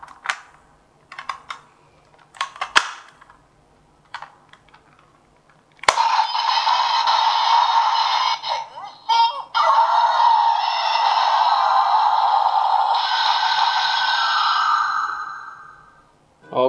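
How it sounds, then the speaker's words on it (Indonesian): Kamen Rider Kiva DX Tatsulot toy plays its transformation sound: after a few scattered plastic clicks, a loud, bright electronic fanfare bursts in and holds steady for about ten seconds, with brief dips partway through, close to the microphone. "itulah dia bunyi henshin dia"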